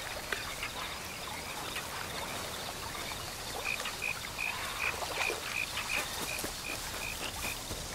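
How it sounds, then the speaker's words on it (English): Frog croaks from the wildlife game Alba: A Wildlife Adventure, a run of short, evenly spaced chirping croaks over a constant wash of outdoor ambience and trickling water. "Frog, frog, frog."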